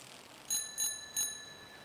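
Three bright, ringing bell strikes sound in quick succession inside a shrine in the video game Season: A Letter To The Future, each chime decaying briefly over a quiet background.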